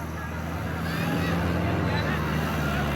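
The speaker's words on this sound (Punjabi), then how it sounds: "ਆਖਰ ਟਰੈਕਟਰ ਆ ਸਪੀਡ 'ਚ ਚੱਲਣ ਡਿਆ।" A New Holland Al-Ghazi tractor engine running at speed, a steady low droning rumble that swells slightly and holds, with voices faintly mixed in.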